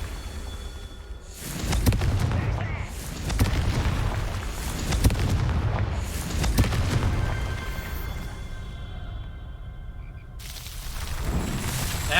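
Confringo blasting curse explosions fire repeatedly in the video game Hogwarts Legacy, a run of heavy, close booms and crackling bursts every second or two over rumbling combat noise.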